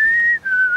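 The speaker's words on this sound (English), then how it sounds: "Are you whistling happy birthday?" A person whistles a steady, clear tune of Happy Birthday, held high notes dipping briefly mid-phrase, loud and close with no talking over it, during a Sea of Thieves game stream.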